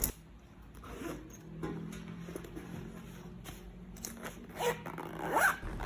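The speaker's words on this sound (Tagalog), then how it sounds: "May zipper mesh coin bag rin siya, kaya siguradong hindi mahuhulog yung mga coins." A zipper being worked on the mesh coin pouch of a waterproof passport holder, a light scratchy zip under quiet handling noise, with a sharper, louder pull near the end.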